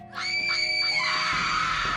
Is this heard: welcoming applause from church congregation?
no